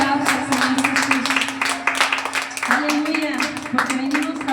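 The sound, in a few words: church congregation applause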